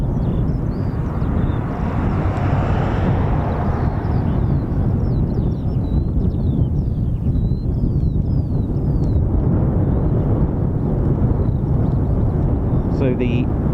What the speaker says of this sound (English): Waiting for the KC-135 to